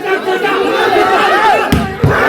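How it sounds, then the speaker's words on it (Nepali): Supporters hoot and cheer at a tense volleyball match, a loud, dense crowd roar with rising whoops over continuous chatter, punctuated by a couple of sharp thuds near the end. "समर्थकहरूको हुटिङ यहाँहरूले सुन्न सक्नुहुनेछ"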